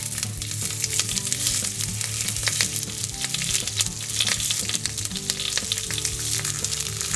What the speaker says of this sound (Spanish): vamos a rehogar la cebolla